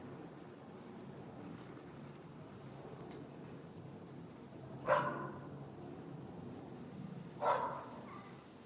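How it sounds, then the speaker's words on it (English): A dog barks twice in the distance, several seconds apart, the sharp yaps standing out against a quiet outdoor hum near Heathrow Airport. "That is one noisy dog."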